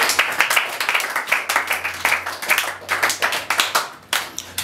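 A church congregation claps in quick rhythmic unison, sharp repeated hand strikes forming a steady beat that fills the room, close and fairly loud with no talking.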